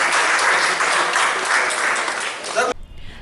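An audience gives loud, sustained applause at a local public gathering, dense clapping that cuts off abruptly near the end, followed by a short stretch of quieter voices.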